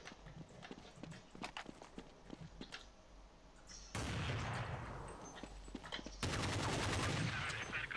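Gunfire in the video game Counter-Strike 1.5: a string of sharp, separate shots and clicks, then two loud stretches of dense, rapid automatic fire.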